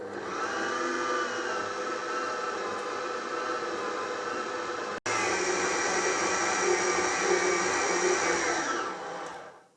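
A stand mixer with a dough hook kneads doughnut dough, its motor giving a steady loud whirring hum close by that pauses briefly midway, resumes, and then winds down at the end.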